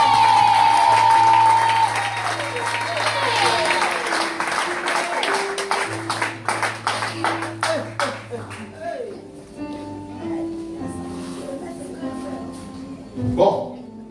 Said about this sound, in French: je veux que tu donnes une acclamation à Jésus seul